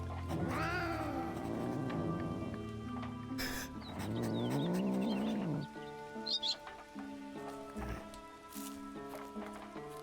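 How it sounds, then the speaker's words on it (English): A cat in the video game Drova: Forsaken Kin gives drawn-out, angry-sounding meows and yowls, with game music and ambient tones running underneath. "It sounds more like the cat is angry."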